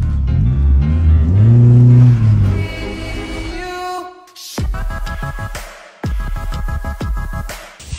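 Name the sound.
petrol engine revving on homemade scooter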